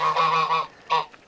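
Geese on a Portugal farm honk loudly and close, two clear calls with a short gap between them and no other sound.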